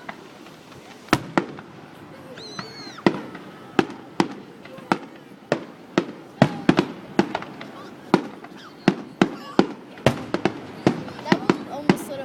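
Missile-type fireworks burst in a rapid string of sharp bangs and cracks at an outdoor 2012 display in Cabot, some with brief whistles, while spectators chat quietly between explosions.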